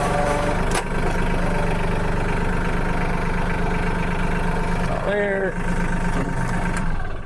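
A compact tractor engine idles nearby, a loud, steady mechanical drone running throughout while someone talks over it.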